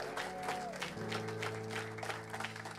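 A church congregation applauding together during a Sunday service, steady clapping sustained throughout over sustained musical tones.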